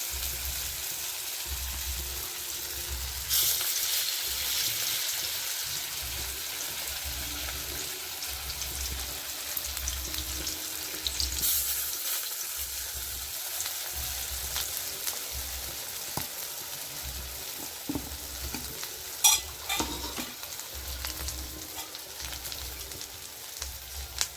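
Dahi vada batter frying in hot oil gives a soft, continuous sizzle and bubbling, with occasional splashes and stirring scrapes, quiet and close.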